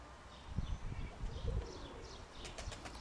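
Pigeons coo in low, soft, repeated calls, with a few faint chirps higher up, heard at moderate distance over a steady outdoor hiss.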